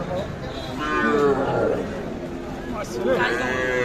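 Young calves moo loudly nearby at a cattle market, a couple of drawn-out calls with a busy crowd murmuring behind them.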